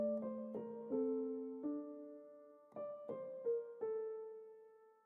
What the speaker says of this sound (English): I used labs, and as you can see, I used the soft piano preset